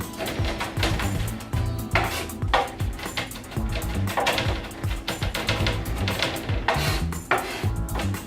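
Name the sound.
knife mincing garlic on cutting board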